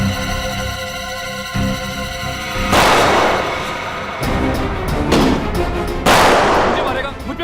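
Gunfire in a CID television drama scene: several loud, sharp bursts of shots ring out in separate volleys over a tense, dense dramatic soundtrack.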